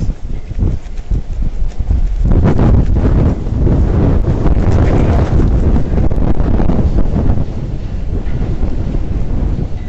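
Heavy typhoon wind buffets a microphone at the Star Ferry Pier in Hong Kong. The roar is loud and continuous, with gusty rumbles that build and grow stronger after the first few seconds.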